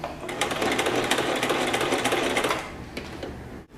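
A Singer mini home sewing machine stitches through fabric in a steady, close, rapid needle rattle for about two and a half seconds, then slows and fades to quieter mechanical ticking.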